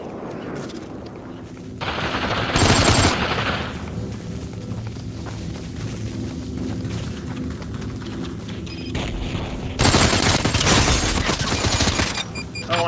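Automatic gunfire in the VR battle royale game Population: ONE, with loud bursts around the third second and again near the end, and steadier gunfire and game noise in between.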